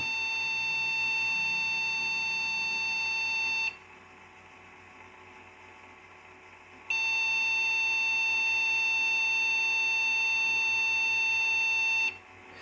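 A steady computer beep tone sounds for about six seconds, stops for about three seconds, then returns, with a low hum running underneath throughout.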